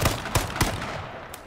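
Gunfire from the player's weapon in a multiplayer shooter game: several sharp broadband shots spaced irregularly, a few fairly loud bursts followed by fainter ones, with no talk over them.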